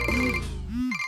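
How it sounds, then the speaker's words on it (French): Mobile phone ringtone going off in a classroom, a loud, near electronic melody with steady tones and sliding pitch swells that fill the whole moment. "Est-ce que c'est un téléphone?"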